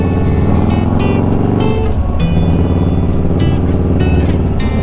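A car driving on a rough gravel road in Caprock Canyon State Park, Texas, with a loud, steady engine rumble mixed with crunching, rattling gravel noise beneath the tires throughout.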